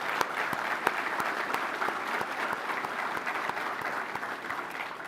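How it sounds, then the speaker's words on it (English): A conference audience applauding singers at a keynote event, sustained crowd clapping with distinct sharp individual claps standing out, moderately loud and steady, no voices. "another round of applause?"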